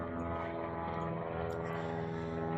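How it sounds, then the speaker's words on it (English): A propeller airplane drones steadily overhead outdoors, a loud, continuous engine hum with layered tonal harmonics that holds through the whole stretch. "Got a plane flying over. Sorry about the noise."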